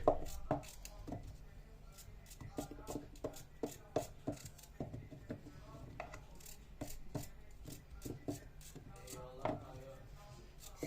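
Repeated knife chops through zucchini on a cutting board, quick irregular taps close by, with faint background voices now and then.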